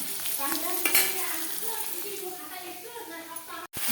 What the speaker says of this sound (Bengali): মশলা দিয়ে এখন কষাবো